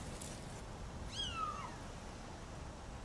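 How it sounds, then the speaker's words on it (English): A cat meows twice, short rising-falling cries, fairly faint over a quiet hissing background, from a scene in the horror series The Haunting of Hill House. "Sounds like a cat."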